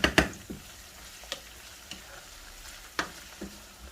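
Puttanesca sauce cooks in a pan with a faint sizzle, broken by a few sharp, close clicks and scrapes from a spoon stirring at irregular moments, with no talking.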